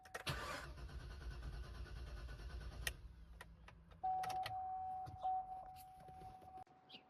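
A GMC Yukon engine cranks without catching: a rough, steady starter rumble for about three seconds, then a sustained electronic chime tone and some small clicks. No one speaks.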